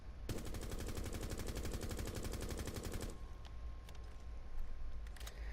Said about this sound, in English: The assault rifle has recoil like this if you do not even attempt to control it.